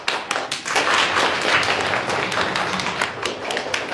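Classmates in a school classroom clapping to welcome a new student, a close, busy patter of many hands with sharp individual claps and some thumps, steady throughout with no talking.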